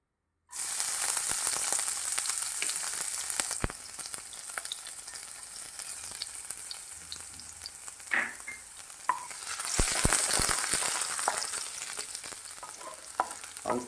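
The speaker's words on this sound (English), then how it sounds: "First we need to add garlic." Garlic sautéing in hot oil in a pan: a loud, steady close-up sizzle that runs throughout, with the occasional clink and scrape of stirring.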